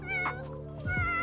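A cat meows twice in The Sims 4 life-simulation game, a short clear call near the start and another rising call near the end, loud and close over steady game background.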